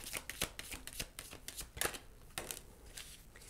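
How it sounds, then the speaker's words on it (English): Tarot cards being shuffled in quick riffling bursts, close and crisp, with brief pauses between shuffles. "I'm going to shuffle one more time."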